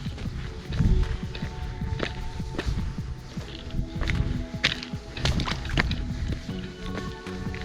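Footsteps crunch and scuff on rough ground as someone hikes uphill toward canyons, steady irregular steps close by with light rustling and faint background noise.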